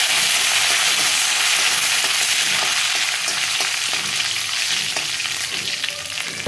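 Green chillies fry in hot oil as the tempering for mixed vegetable fried rice, giving a loud, continuous sizzle with faint stirring scrapes, close by and unbroken, with no one talking.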